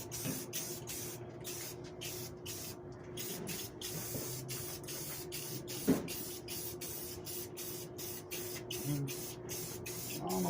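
Spray-on finish being applied to a wooden frame, a steady hissing spray that runs continuously with short breaks, close by and fairly quiet, with no speech.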